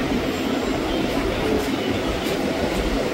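Loud, steady rumble and rattle from inside a Sealdah–Naihati local train on the move, with continuous rolling wheel noise and clatter heard close up throughout.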